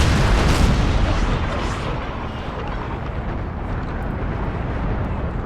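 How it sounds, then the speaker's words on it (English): A sailing-ship cannon volley in the naval battle game Empire: Total War comes as a loud, dense, continuous booming roar that rumbles on with little letup for several seconds. "let's bring her about into the wind and give her a volley before we lose our masts"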